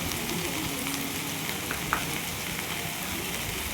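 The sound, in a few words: spices being sautéed (fried) in a pan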